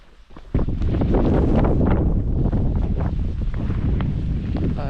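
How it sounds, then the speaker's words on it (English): Strong wind on a high mountain walk on Cadair Idris between Minffordd and Dolgellau, rising suddenly into a loud, steady roar that buffets the microphone and carries on without a break. "Oh yes, here comes the wind."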